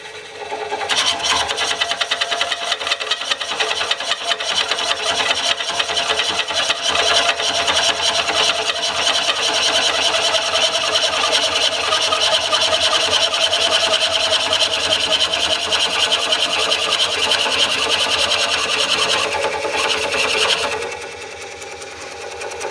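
A Woodcut Bowlsaver Max 4 coring cutter grinds steadily into a wooden bowl blank spinning on a lathe, a loud continuous rasping drone that holds for about twenty seconds before easing off near the end.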